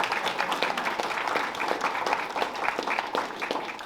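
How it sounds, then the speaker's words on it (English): Steady applause from a crowd, many hands clapping continuously at a fairly loud level throughout, with no pauses. "have another big round of applause for all of our young people"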